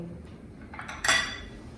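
Baby corn, broccoli and carrot are stirred in a pan, giving a soft scrape followed by one brief, bright metallic clink of a utensil against the pan, close and quiet, with no talking.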